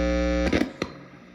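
Dry electric guitar tone through a speaker cable on a budget DIY pedalboard, a sustained chord that cuts off, followed by a couple of brief string noises fading into quiet hiss.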